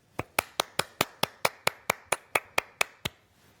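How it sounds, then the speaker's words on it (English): Sharp, evenly spaced claps ring out in a steady run of about fourteen distinct hits, close and fairly quiet, as a round of applause for graduates at a school of public health celebration. "please join me in a round of applause for our graduates"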